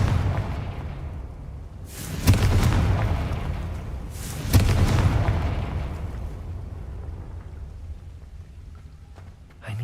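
Two deep, booming Confringo spell blasts go off in Hogwarts Legacy, each with a sharp crack and a long rumbling tail that slowly fades, separated by about two seconds, with no talk.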